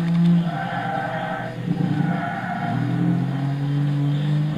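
The 3.5-litre V6 of a 2006 Infiniti G35 Coupé in the Gran Turismo 6 racing game, heard from the cockpit, revs up and settles in several rising and falling sweeps with a smooth, throaty engine tone and no voices.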